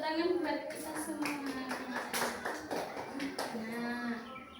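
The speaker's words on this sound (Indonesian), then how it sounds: "Kita semua tepuk tangan buat kita semua." Children in a primary-school class clap their hands together in a loose, uneven round of claps, close and moderately loud, with a teacher's voice and kids' voices mixed in throughout.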